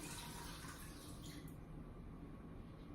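Seasoned broth pours in a steady, continuous liquid stream into a cooking pot for chicken fajita soup, soft and uniform with no speech.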